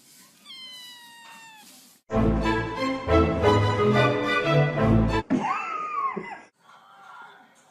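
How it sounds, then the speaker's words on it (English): A kitten gives a few thin meows, then a loud, drawn-out wailing yowl, followed by shorter cries, all close to the listener, with little else heard. "What does the kitten say?"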